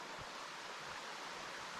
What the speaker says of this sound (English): Little mountain creek.